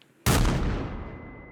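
Single loud pistol gunshot to the head in the video game Mouthwashing, a sudden close blast with a long decaying tail and a faint ringing tone afterward.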